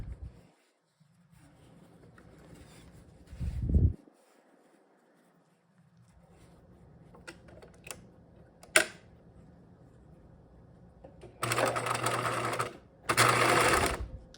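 Sewing machine top stitching a backpack drawstring casing, two short loud bursts of fast motor whirring near the end, preceded by quiet handling noises and a few clicks.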